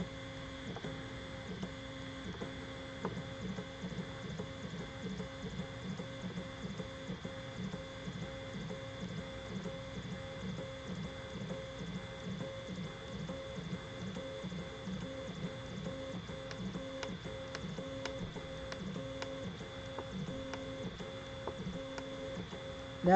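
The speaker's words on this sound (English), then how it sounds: "Now we're printing the top level of the deck on the benchy." An EasyThreeD K1 3D printer lays down the top deck of a benchy, its stepper motors whirring in a steady, rhythmic stream of faint ticks and hums, heard alone at close range.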